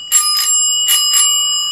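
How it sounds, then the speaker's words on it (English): A bicycle bell, used as a handheld prop, rings close and loud in two quick pairs of bright metallic dings separated by a short pause. "I want to have the bike bell sound, just like that"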